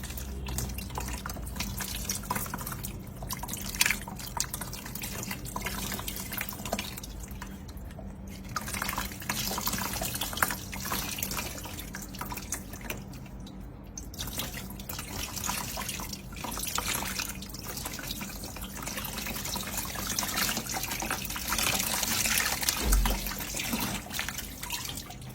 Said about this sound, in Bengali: আমরা এখন এটার মধ্যে পানি ঢেলে দিব, দেখবো যে এটার মধ্যে পানি ঢুকে কিনা।